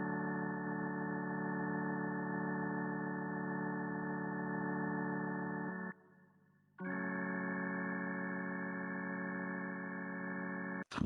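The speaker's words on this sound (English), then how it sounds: "Next instrument we have is the organ" Sustained organ chords ring out steadily, one long chord held for several seconds, a brief pause, then another chord, ending with a sharp click.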